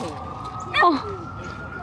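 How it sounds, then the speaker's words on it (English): An emergency vehicle siren wails briefly on a snowy New York City street, a short rising-and-falling sweep that peaks and fades, with a person's short exclamation during it. "Are you competing with the siren"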